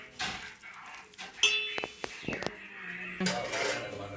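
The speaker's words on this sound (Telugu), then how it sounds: "half KG చికెన్కు spoon salt spoon పసుపు వేసి ఇలా కలుపుకోవాలి" Half a kilo of chicken is tossed with salt and turmeric in a bowl, bringing close clinks and scrapes of a metal spoon against the dish, with irregular knocks and a brief rattle of utensils.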